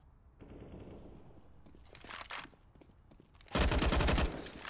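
Wall-bang gunfire through a wall on the Overpass map in CS:GO, a rapid automatic burst with a quieter shot earlier, loud and close under a competitive match's game sounds.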